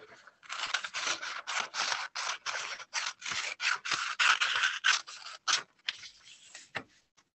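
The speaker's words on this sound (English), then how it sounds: "Cut along the line." Scissors cut paper along a line for an Easter craft, making a close, crisp run of about twenty rhythmic snipping crunches with brief gaps between strokes, alone with no talking.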